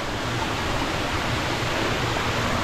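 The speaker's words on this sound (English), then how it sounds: "That's the creek we followed" A rainforest creek in Australia flows steadily, a continuous broadband rush of water that holds an even level throughout, close and alone with no voices.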